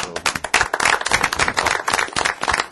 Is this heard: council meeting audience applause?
yes